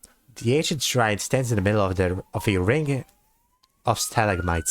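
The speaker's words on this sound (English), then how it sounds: "excuse the sirens if you can hear them" A faint siren wails outside, rising slowly in pitch. It sits in the background beneath a man's close, steady narration and is most noticeable during a brief pause in his speech.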